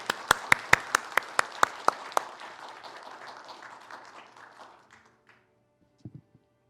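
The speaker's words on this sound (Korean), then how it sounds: "우리 선우도 박수로 맞아주세요" Congregation applauding at a Sunday church service, sharp individual claps standing out at first, then a dense round of clapping that fades out over several seconds, with a few faint thumps at the end.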